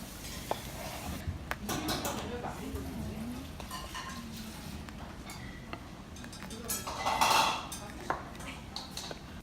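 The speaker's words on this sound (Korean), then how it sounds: "소스에 들어갈 야채들을 송송 썰어줍니다" Knife strikes on a cutting board as vegetables are finely sliced for a spicy eggplant sauce in a home kitchen, a run of light, fairly even taps with clinking dish sounds and a brief louder clatter near the end.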